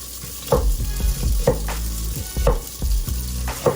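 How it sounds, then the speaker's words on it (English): Onions sauteing in a pan for baked spaghetti, a steady close sizzle and crackle with low rumble, punctuated by about four rhythmic scraping stirs roughly once a second. "saute some onions before we put our meat in"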